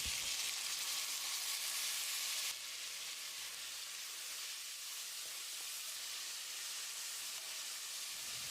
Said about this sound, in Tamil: ஒரு டீஸ்பூன் உப்பு சேர்த்து தக்காளியை மசிகிற அளவுக்கு வதக்கிடலாம்.